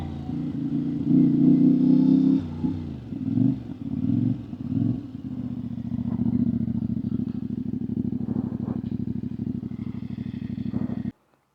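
A CFMOTO 450MT IBEX adventure motorcycle runs close by, its engine holding a steady low drone with a few throttle blips and revs before cutting off abruptly at the end.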